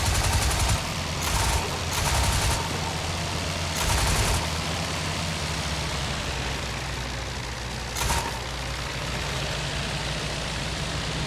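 Short machine gun bursts from a Sopwith Triplane in the IL-2 flight sim, several quick rattling volleys over a steady engine drone, the last one isolated and brief.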